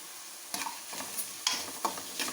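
Onion frying gently in a pan for a stuffed snake gourd dish, a soft steady sizzle broken by a few distinct scrapes and taps of a spoon stirring, close and fairly quiet.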